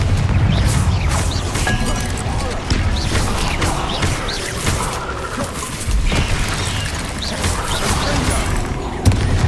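Confringo blasting spell explosions in Hogwarts Legacy, a dense run of loud booming blasts and crashes packed together with no quiet gaps, under background game noise and some voice.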